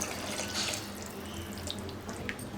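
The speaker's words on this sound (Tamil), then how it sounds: "இன்னும் கொஞ்சமாக தண்ணி ஊற்றிக்கலாம்." Water poured into a pot of simmering okra tamarind gravy (vendakkai puli kuzhambu), a steady splashing pour lasting the whole moment, close and moderately loud with no talking.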